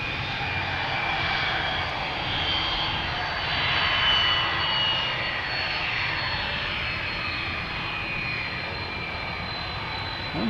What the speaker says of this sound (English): this is the first back-to-back departure of two heavies